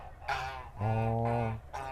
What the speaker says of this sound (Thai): เราเลี้ยงสัตว์ปีก เรามีห่าน